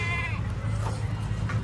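A goat bleats at a crowded Eid livestock market in Lahore, a wavering nasal call close by, over a dense hum of crowd noise and background chatter.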